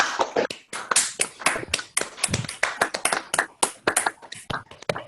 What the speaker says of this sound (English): Let's unmute ourselves to clap.